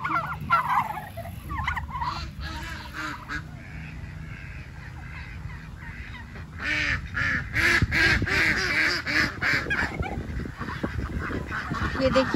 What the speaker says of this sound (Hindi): यहाँ पर ये खूबसूरत सी जो ये बतखें हैं, मुर्गियाँ हैं, बतखें हैं